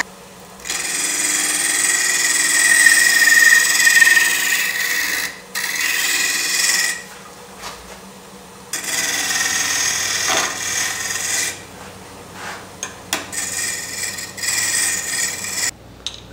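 Wood lathe shaping a tenon on a small turned wooden toy figure for pin jaws, a steady rasping scrape of the tool on spinning wood, close and loud, stopping and restarting in several bursts.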